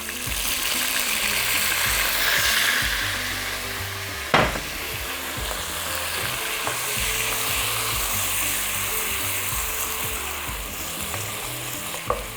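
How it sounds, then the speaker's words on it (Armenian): Browned meat frying in a pot for a creamy soup with cheese dumplings as about 50 grams of semi-dry white wine goes in, a steady close sizzle with a few sharp clinks of a utensil. "Մինչ ջուրը ավելացնելը կհամեմ եմ սպիտակ կիսաանապակ գինով,"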